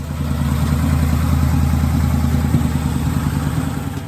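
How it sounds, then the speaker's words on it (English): A tuned 2013 Harley-Davidson Night Rod with a 1250cc engine idles steadily nearby, a loud, even, throbbing rumble with a light mechanical clatter and no talking. "as they get to see the tuned Harley-Davidson Night Rod on their screens"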